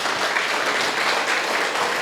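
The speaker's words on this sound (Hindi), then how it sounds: "थोड़ा जोरदार एक बार ताली अपने लिए बजा लो यार" A crowd at an evening event claps loudly for itself, a thick, even roar of many hands sustained without a break.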